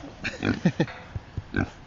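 Grass-fed farm pigs that reach around 200 kilos grunt and oink close by in a quick, irregular run of short, fairly loud snorts.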